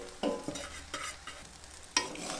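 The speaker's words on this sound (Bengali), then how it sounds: "তো এখন আমি নাড়ছি, ভালো করে নেড়ে নিতে হবে।" Fried potatoes get stirred into chowmein in a pan, giving a quiet, crackling sizzle punctuated by four or five distinct spatula scrapes spaced roughly half a second apart.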